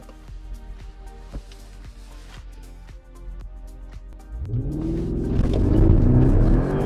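An Audi RS7 engine idles with a low rumble and faint ticking, then revs up loudly partway through, the pitch climbing and holding in a deep, powerful roar nearby.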